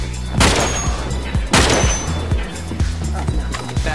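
Gunfire from the video game Uncharted 3 in a live multiplayer match: two loud bursts of shots with booming impacts, followed by scattered lighter shots and thuds.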